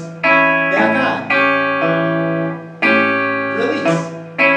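Guitar alternating a bass note and a strummed chord, each chord cut short by a muted release, repeated twice in a steady pattern.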